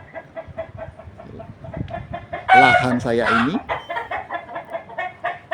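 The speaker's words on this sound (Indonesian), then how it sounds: "dan ini adalah ayam yang saya pelihara, yaitu ayam berjenis Bangkok" Bangkok breed chickens kept by a retiree on his land cluck in a steady rhythmic series, with one louder, longer call standing out in the middle and someone speaking briefly.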